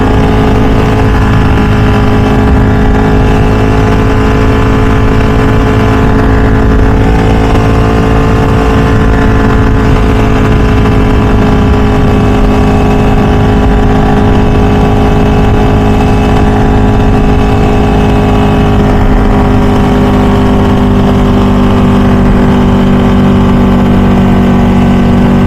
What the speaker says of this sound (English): so hopefully you can pick up how amazing the bike sounds